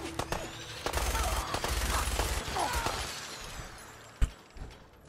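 Gunfire in Fallout 4, a burst of dense crackling shots filling the first few seconds, followed by a sharp isolated blast near the end, mid-distance and fairly loud.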